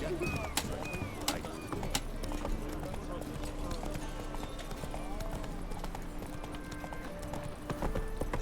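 Roach, the horse in a video game, gallops with steady rapid clip-clop hoofbeats and an occasional whinny, the thudding close and constant throughout, with voices talking over it.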